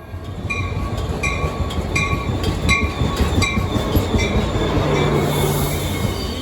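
Caltrain double-decker commuter train pulling into a station on the Redwood City to San Francisco line, a loud close rumble with rhythmic wheel clacks and a high squeal of wheels on the rails.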